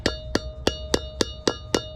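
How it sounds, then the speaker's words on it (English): Seven light, evenly spaced hammer taps on a trailer bearing seal as it is set into the hub, each a sharp metallic tick with a faint ring, close and clear with no voices. "you're just going to grab your hammer and then just lightly tap"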